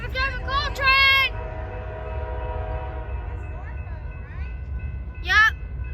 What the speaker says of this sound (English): Norfolk Southern coal train.